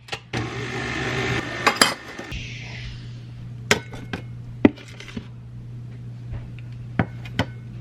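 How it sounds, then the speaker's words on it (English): Stirring cranberry cookie dough in a bowl after an egg is added: a brief scraping swirl, then scattered sharp clinks and taps of a spoon against the bowl over a steady low hum. "and then we're going to get this stirred up again"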